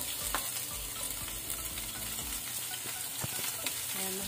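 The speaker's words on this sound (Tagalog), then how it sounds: "Tapos, ilagay natin ang sibuyas." Onion is added to a hot pan for sautéed bottle gourd, giving a close, steady crackling sizzle with a few sharp clicks and knocks from utensils against the pan.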